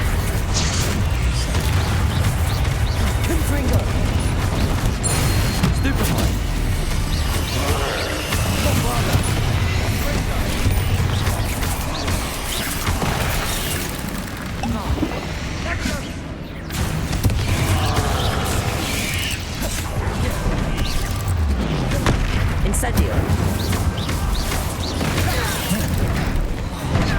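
Spell blasts and explosions in the video game Hogwarts Legacy form a dense, loud barrage of booms, crashes and bursts that runs almost continuously under a talking voice.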